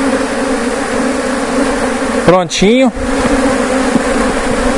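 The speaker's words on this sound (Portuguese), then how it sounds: "agora vamos transferir as abelhas que sobraram aqui no núcleo" Dense, steady buzzing of many bees as they are moved from a termite mound into a wooden hive box, loud and close throughout, with a brief handling clatter partway and a short spoken word.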